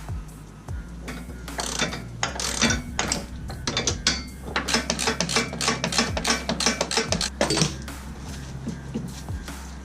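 A socket ratchet clicks in rapid bursts while tightening bolts on a Land Rover Defender 90 bumper during a ladder install, the close, loud ratcheting repeating over a low background hum.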